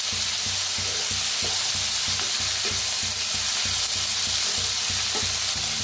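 Roasted radish pods stir-fried in a pan, with a steady loud sizzle and a repeated rhythmic scrape of a spatula stirring through the pods, alone with no talk.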